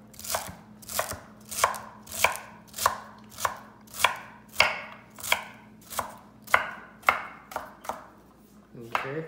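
A knife chopping mushrooms on a cutting board for creamy mushroom soup, around fifteen steady, evenly spaced chops, close and crisp, over a low background hum without speech.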